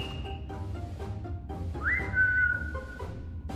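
A character in the VRChat horror game The Smile Room gives a single rising whistle that settles into a held note, heard clearly over quiet ambient game sound and faint background tones.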